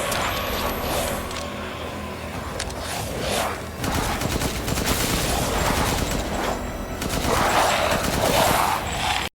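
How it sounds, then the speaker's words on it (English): Gunfire rips through zombies in the video game Resident Evil Village: repeated bursts of shots in rapid strings, mixed with mechanical clatter and game noise, fairly loud and continuous. "just shooting every zombie in sight"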